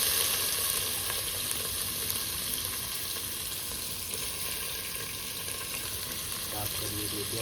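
Onions sizzle and fry steadily in hot oil in a home kitchen, a continuous close crackling hiss with faint stirring and soft voices in the background.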